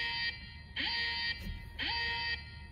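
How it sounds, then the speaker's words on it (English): An aftermarket security device in a Mopar car's OBD port sets off an alarm after being unplugged, sounding as loud, shrill electronic beeps in three evenly spaced pulses. "if I reach down and unplug this from the OBD port, you're going to get an alarm that sounds a little bit"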